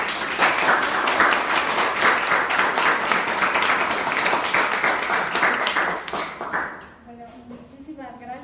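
Lecture audience applauds with dense, fast clapping for about six seconds, then it dies away and a few faint voices and a soft tone remain.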